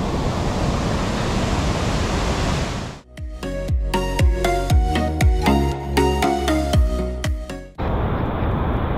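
Hosgod waterfall in the forest near Honnavar roars as a dense, loud, steady wash. The roar fills the first three seconds, gives way to music, then returns at the end.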